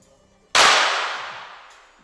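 A single sharp air pistol shot at a women's junior shooting championship, close and loud, with a long reverberant decay filling a quiet indoor range.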